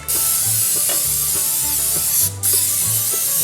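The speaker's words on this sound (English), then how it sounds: "First thing you're going to want to do is spray your pan." A steady, loud aerosol hiss of cooking spray greasing a creased, fluted cake pan for a rum cake, broken by a brief pause before spraying resumes, close by and with no voices.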